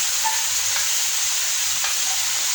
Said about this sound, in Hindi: 3 चम्मच दही डाल के फिर इसको हल्का सा चम्मच हिला लेते हैं।